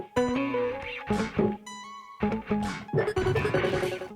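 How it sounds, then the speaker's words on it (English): Wobbling wub bass, proggy electric guitars and slapped bass guitar play together in a circuit-bent electronic production, dense and layered with choppy bursts, a brief sustained synth-like gap midway, then the full mix returning. "the wub bass, the guitars, and slap bass sound like this"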